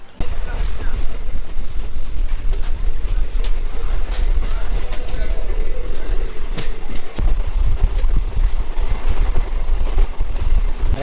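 Passenger train on the Siliguri to Lataguri line halted at Malbazar station in the Dooars forest, a loud continuous low rumble of the train with rattling and occasional sharp knocks throughout.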